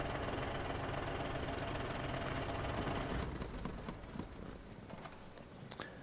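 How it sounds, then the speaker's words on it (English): A truck engine in the video game SnowRunner, on hard mode, shuts down: a loud, steady rumble fills the first three seconds, then drops to a thinner, quieter idle with scattered clicks and knocks as it winds down. "let me shut down this engine first"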